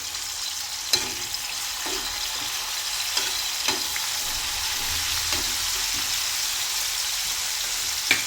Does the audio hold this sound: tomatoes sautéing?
yes